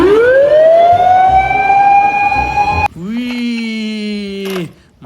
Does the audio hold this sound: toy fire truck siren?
yes